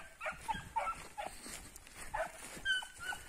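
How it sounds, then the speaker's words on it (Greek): Six-month-old beagle puppies giving short, high yips and whimpery barks in quick irregular bursts, moderately close, over faint background noise. "Χωρίς καμία βοήθεια κύριοι, 6 μηνών κουτάβια είναι."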